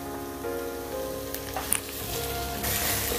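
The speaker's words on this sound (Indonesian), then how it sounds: "Dan ini saya tumis ada 3 siung bawang putih yang sudah saya geprek" Three crushed, coarsely chopped garlic cloves sizzle in hot oil in a pan while cooking for lontong mie, a steady close crackling hiss with a few sharper pops.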